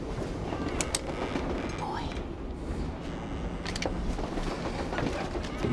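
A moving train rumbles and clatters steadily along the rails in a comedy scene about pirates aboard a train, with people talking over the continuous noise.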